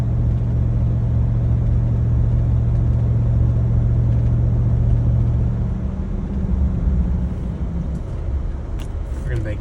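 2022 Chevrolet Tahoe with a custom CORSA exhaust climbing uphill, a deep steady exhaust rumble from inside the cabin that eases off partway through, with a voice talking over it.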